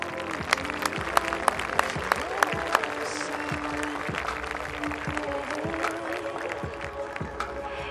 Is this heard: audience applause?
yes